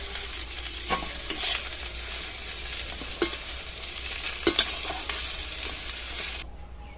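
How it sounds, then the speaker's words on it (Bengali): Potato and okra fry in a pan with a steady crackling sizzle, a spatula stirring and scraping now and then, with no voices. "আলু আর ভেন্ডি এরকম লাল করে ভেজে নিয়েছি"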